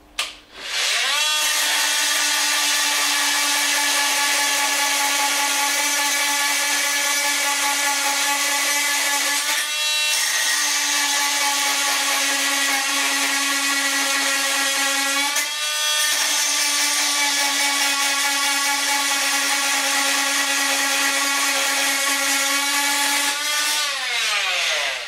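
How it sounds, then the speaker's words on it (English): A Fein MultiMaster oscillating tool with its blade buzzes hard and continuously while cutting through three screws, the high-pitched whine dipping briefly at two points between cuts and stopping only at the very end. "we'll give that a go on trying to cut through three of those screws"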